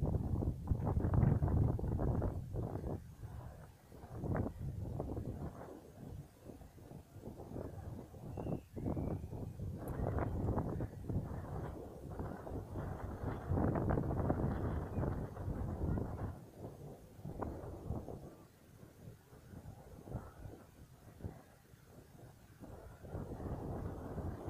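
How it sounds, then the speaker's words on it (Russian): Strong wind blows hard outdoors, a loud, continuous gusty rumble buffeting the microphone for the whole stretch, rising and falling in surges with no other clear sound on top. "Ветер вообще очень сильный дует."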